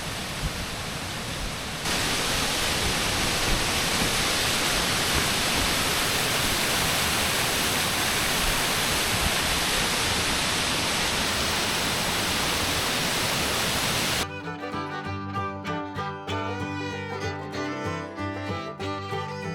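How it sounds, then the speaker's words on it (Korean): Steady roar of the Gujanggun artificial waterfall at Gangcheonsan, Sunchang, a dense continuous rush of falling water heard up close and loud, ending in a few seconds of music. "부장군 폭포는 2005년에 수정된 인공 폭포입니다"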